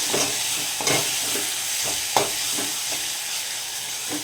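Tomatoes and ginger-garlic paste sautéed in a hot pan for an egg roast, with a steady broad sizzle and repeated spatula scrapes and stirs close by, no voices.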